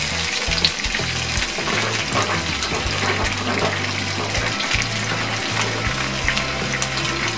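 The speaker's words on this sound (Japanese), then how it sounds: "ニンニク、火強いな、弱めの火で" Garlic and ham frying in olive oil in a pan over low heat, a steady close sizzle and crackle running throughout with no talking.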